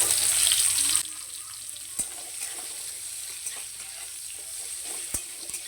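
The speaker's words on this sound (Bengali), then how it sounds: "পেঁয়াজটা এখানে হালকা করে ভেজে নিচ্ছি" Chopped onion frying in mustard oil with a dried red chilli and whole cumin for a home-style egg curry, giving a steady close sizzle with occasional stirring clicks and no talk.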